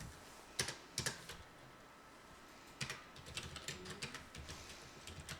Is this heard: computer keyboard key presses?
yes